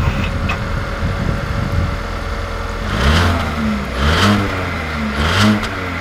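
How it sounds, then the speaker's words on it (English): A 2020 Ford Edge Titanium car pulls away, its engine rising in a few revving surges over a steady close-up drone. "let's take this Edge Titanium out to see how it drives"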